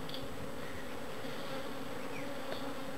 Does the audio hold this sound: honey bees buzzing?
yes